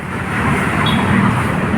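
Cars rush past on Roxas Boulevard in a dense, loud, continuous roadway roar with no clear gaps between vehicles.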